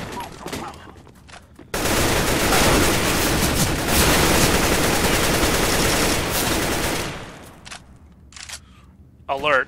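A Negev machine gun in Counter-Strike: Global Offensive unleashes one long, loud, unbroken burst of rapid fire lasting several seconds, then cuts off, with quieter clicks and talking before and after.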